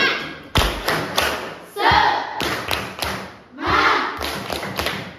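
Students in a religious studies classroom do a rhythmic spirit clap, with loud unison claps in a patterned sequence separated by short shouted group chants.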